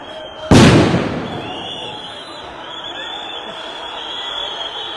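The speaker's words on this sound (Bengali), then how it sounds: "এখানে দেখতেই পাচ্ছেন সাউন্ড গ্রেনেড কিন্তু নিক্ষেপ করেছে শিক্ষার্থীদের ওপর পুলিশ" A sound grenade thrown by police at protesting students bursts in a single loud, sharp blast that echoes and fades into a sustained outdoor crowd murmur, with voices audible throughout.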